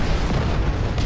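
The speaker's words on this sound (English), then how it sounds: "Call in rocket strike from Earth position." Rocket strike detonating in Call of Duty: World at War on Japanese defenses, a dense, continuous roaring blast that fills the whole moment loudly with no quiet gaps.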